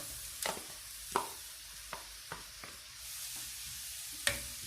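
Onions sizzle softly in a pan while a utensil scrapes and stirs them in a handful of sharp, intermittent clinks over a steady low frying hiss; no one speaks.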